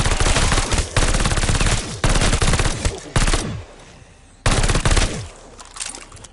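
Loud video-game gunfire from a double-barrel shotgun and a second gun comes in dense, rapid bursts of blasts with short gaps between volleys, close and dominant, each burst trailing off with a rattling decay.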